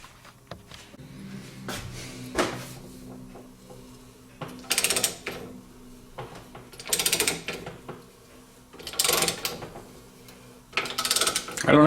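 Ball joint pressed into a control arm with a Harbor Freight Maddox press kit, heard as a series of close metallic ratcheting clicks and creaks with several louder bursts of grinding strain spaced a couple of seconds apart, no talking.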